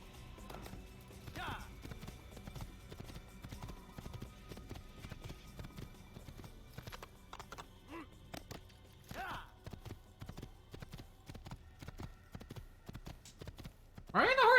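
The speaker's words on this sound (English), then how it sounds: "riding a horse feels nice" Horse hooves clip-clop at a steady, rhythmic gallop while riding in the video game Assassin's Creed, continuing throughout at moderate loudness, with a brief louder burst at the end.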